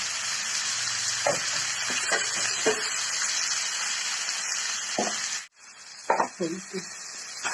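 Vegetables and slit green chilies sizzle in a hot pan, a steady close frying hiss broken by stirring knocks and clinks of a spoon, with a brief pause before the sizzle resumes.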